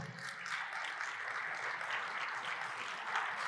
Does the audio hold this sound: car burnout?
no